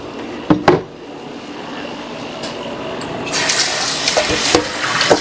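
Tap water gushes into a pot in a home kitchen while cooking chicken adobo, starting with a couple of clanks before the steady splashing stream grows louder and fuller in the second half.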